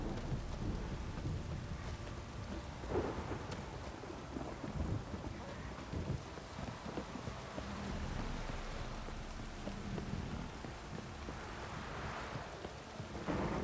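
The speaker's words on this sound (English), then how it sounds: "This downpour's a bastard, it is." Heavy rain pours steadily throughout in the video game The Witcher 3: Wild Hunt, with low rumbles of thunder rolling underneath at intervals.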